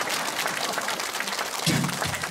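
An audience at a nostalgic variety show in a silver cinema applauds in a steady, fairly distant wash of clapping, with a brief low thud or voice near the end.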